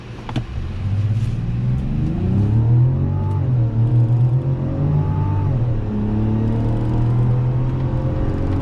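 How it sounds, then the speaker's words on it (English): A 2024 or 2025 Mazda SUV, a CX-70 or CX-90, accelerates hard during a 0 to 60 run, the engine rising and droning loudly through shifts with a steady road rumble, close and continuous, no talk. "0 to 60 test again."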